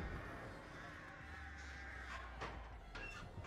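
Crows caw in the horror survival game Dead by Daylight, several harsh calls heard fairly faintly over a low steady background hum.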